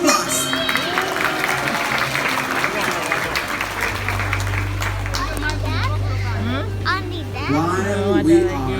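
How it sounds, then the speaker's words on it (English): Audience applause at a safari park animal show after a hornbill bird performance, broad clapping mixed with crowd and children's voices, with an announcer talking over it and music joining partway through. "Please big applause."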